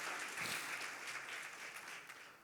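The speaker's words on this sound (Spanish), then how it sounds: "denle un aplauso a ese Dios, aleluya, que es el primer dador" Church congregation clapping together during a sermon, a steady, fairly loud wash of applause lasting throughout with no voices.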